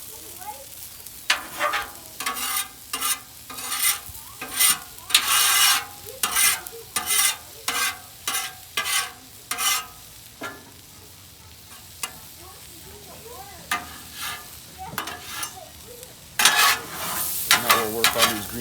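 Onions sizzle on a Blackstone 28-inch flat-top griddle while a spatula scrapes and pushes them aside, making close, repeated scraping strokes in bursts over a steady frying hiss.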